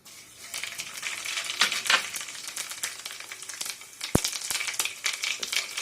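Tempering seeds crackle and sizzle in hot oil in a pan on the stove, a steady close frying hiss with scattered pops and one sharp clink near the end, no voices.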